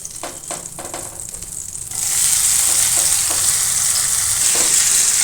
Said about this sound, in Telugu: సేమ్ ప్యాన్లో వంకాయలు అనేవి వేసి వేపేసుకున్నాం